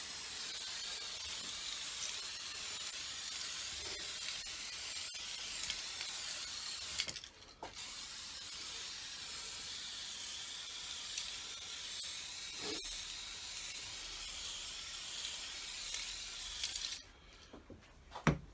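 An aerosol sprays a bottom coat of paint onto a P51 Mustang scale model. A steady, close hiss runs for about seven seconds, breaks briefly, then continues for nearly ten seconds before stopping.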